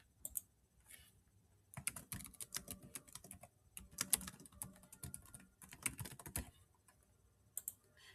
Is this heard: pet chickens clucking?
no